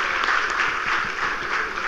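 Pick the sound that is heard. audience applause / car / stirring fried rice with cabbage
audience applause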